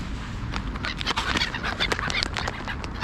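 A dozen or more ducks gathered at an evening feeding, quacking in a busy overlapping chorus of short calls against outdoor background noise.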